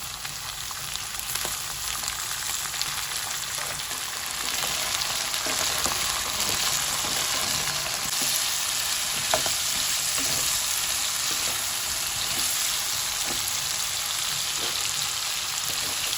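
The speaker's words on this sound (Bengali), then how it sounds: "সবজিগুলো হালকা ভাজা হয়ে গেছে" Mixed vegetables and peas frying lightly in hot oil with a little salt, producing a dense, continuous close sizzle with faint stirring clicks throughout and no talking.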